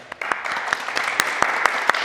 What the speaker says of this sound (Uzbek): degan joyda qarsak bo'lish kerak.